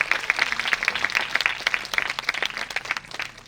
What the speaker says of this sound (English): Let's give a huge round of applause to the legendary George Bernard Shaw for his timeless